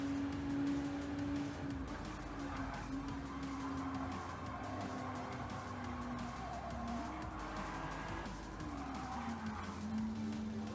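Race car engine droning steadily in Gran Turismo 7, pitch rising and falling through gear changes, with tire squeal and skidding through corners, loud and continuous throughout.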